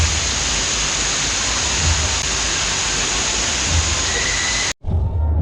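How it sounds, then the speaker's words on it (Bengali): A fountain at Bira Happy Valley water park splashes with a loud, continuous broadband rush close by. It cuts out briefly near the end. "পেছনেই দেখতে পারছো ঝর্ণা আছে।"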